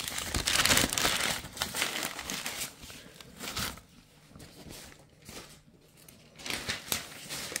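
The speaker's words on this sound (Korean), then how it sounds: "보관해야 하는 무를 이렇게 신문지에 하나씩 다 싸줍니다" Stored winter radishes are wrapped one by one in newspaper, the paper crinkling and rustling close by in irregular bursts that fade into softer handling and quiet gaps.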